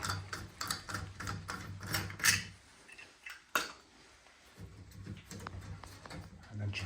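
A toilet fitting being unscrewed in a bathroom produces close, irregular clicking and ratcheting metallic rattles with a brief louder clank, alongside a steady low hum.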